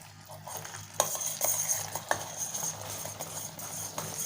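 Gelatin being stirred into hot sugar syrup in a pan over a low flame while making jelly candy, with steady scraping and clinking of the spoon against the pan and a soft sizzle underneath, all without talk.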